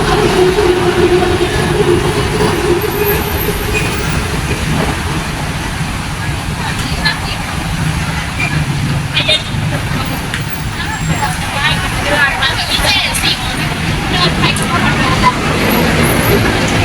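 Dense road traffic at the Silom intersection in central Bangkok, a steady loud rumble of engines and tires with babble of people nearby, continuous throughout.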